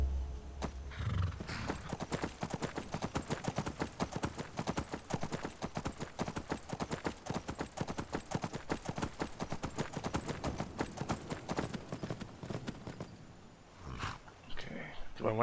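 Horse hooves clopping steadily in the open-world game Skyrim, a fast, even galloping rhythm that continues throughout, moderately loud and close, with a brief whinny-like sound near the start and a slowdown near the end.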